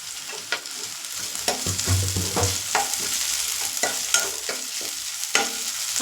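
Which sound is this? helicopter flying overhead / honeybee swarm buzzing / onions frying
onions frying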